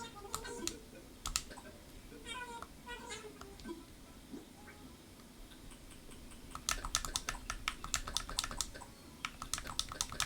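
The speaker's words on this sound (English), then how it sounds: "My keyboard is super clicky too." A clicky computer keyboard is typed on in short bursts of sharp, fast clicks, fairly quiet and close, with a denser run of keystrokes near the end and faint talk at times.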